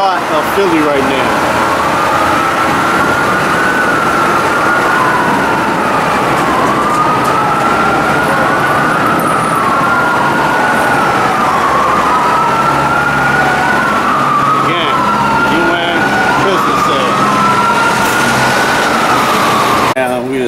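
Fire engine and ambulance sirens wail, sweeping up and down repeatedly, loud and steady amid dense Philadelphia city traffic rumble, with a vehicle engine droning throughout.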